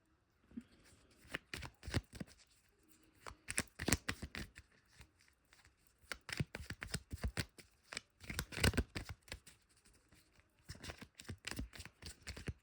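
Tarot cards are shuffled by hand in repeated riffling bursts of crisp flutter and slap, close and clear, with brief pauses between rounds.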